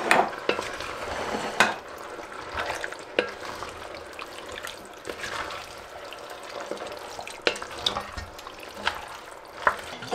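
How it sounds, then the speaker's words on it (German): Chopped canned tomatoes being stirred into a hot frying pan on a home stove, with a steady sizzle and repeated close scrapes and clinks of a spoon against the pan. "Ich mache jetzt schon mal die gestückelten Tomaten mit rein, damit ich noch ein bisschen umrühren kann"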